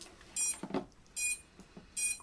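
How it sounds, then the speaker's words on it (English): Quadcopter flight controller, just repaired after a broken micro USB port, gives three short bright beeps spaced evenly about every 0.8 seconds, close and fairly loud, with small clicks and handling noise between them. "Should hear a beep beep."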